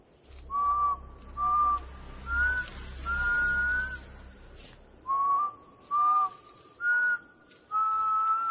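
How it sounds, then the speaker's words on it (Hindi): Someone whistles over and over in short, clear, high-pitched bursts, about eight calls spaced roughly evenly with brief pauses, fairly close and with no talking. "तू सीटी क्या बजा रहा है बार बार?"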